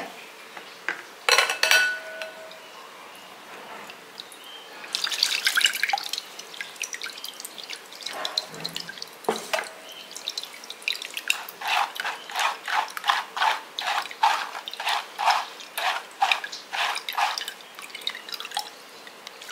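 Water is poured into a mixer-grinder jar and swished around to rinse out leftover batter, with splashes and clinks of the jar, then a run of rapid rhythmic sloshing in the later half, close by and with no talking.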